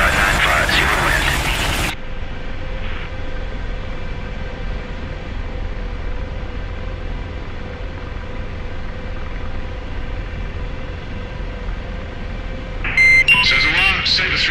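An AH-64 Apache helicopter in the DCS flight simulator spooling for takeoff, a steady droning turbine and rotor hum held throughout, with a burst of radio chatter at the start and bright warning beeps near the end.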